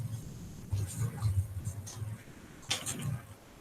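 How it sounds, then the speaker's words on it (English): Marker or chalk scratches on a board while someone solves a coordinate geometry problem: short, soft strokes in bursts, mixed with low murmuring speech. "Let me write properly."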